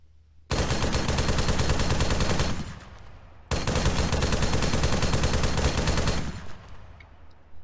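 Automatic gunfire from a rifle in the Arma 3 military video game comes in two long, loud sustained bursts of rapid shots, separated by a brief pause, each ending in a short echoing tail.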